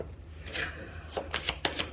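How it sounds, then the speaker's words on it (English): Quick riffling and snapping of a deck of tarot cards being shuffled, several sharp flicks in close succession, close and fairly quiet with no talking. "I'm going to shuffle again."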